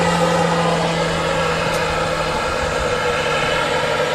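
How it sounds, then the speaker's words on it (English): Airliner jet engines spool up with added thrust as the aircraft begins rolling at Manchester Airport, a steady loud broadband roar with a low hum, continuous and unchanging across the whole stretch. "Thrust being added there to get the aircraft moving"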